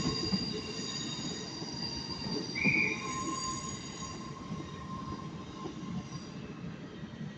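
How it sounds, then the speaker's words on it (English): Class 397 TransPennine Express train pulling away from a platform at Manchester Piccadilly, a steady rolling rumble with high thin wheel squeals and a brief sharper squeal partway through, heard at moderate distance without talk. "397011 is now leaving. Working the 1328 Transpennine Express service to Manchester Airport."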